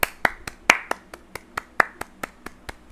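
A few people clap in a loose, steady rhythm of sharp, close hand claps, about a dozen in under three seconds, with no talking over them.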